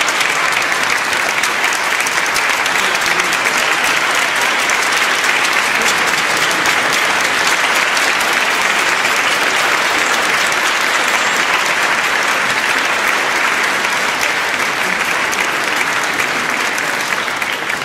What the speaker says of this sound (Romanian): vă mulțumesc că i-ați aplaudat